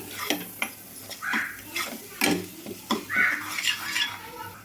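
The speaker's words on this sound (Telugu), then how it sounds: "అల్లం వెల్లుల్లి పేస్ట్ కూడా బాగా వేగాలండి మంచిగా పచ్చివాసన అయితే పోవాలి అంతవరకు అయితే బాగా వేయించుకోవాలి" Ginger garlic paste frying in a pan for a country chicken curry, with close scraping and clinking of a spoon stirring against the metal over a soft sizzle, in uneven bursts.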